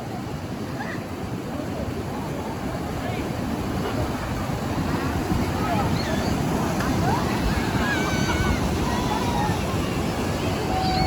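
A steady, rushing roar of a large waterfall in Bueng Kan, Thailand, fills the scene continuously, with faint distant voices of children playing now and then beneath it.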